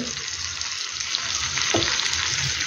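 Masala chicken cooking in a pan over a low flame makes a steady, close hiss and sizzle with occasional stirring noises.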